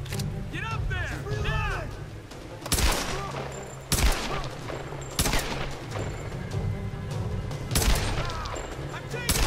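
Rapid gunfire from the video game Tomb Raider 2013, sustained volleys with several sharper, louder bursts standing out, while someone talks over the shooting.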